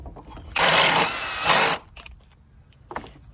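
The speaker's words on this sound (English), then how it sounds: "I drill a hole, 1/2-inch hole." A power drill whirs steadily for about a second, boring a half-inch hole, then stops, followed by a few faint clicks and short mechanical noises nearby.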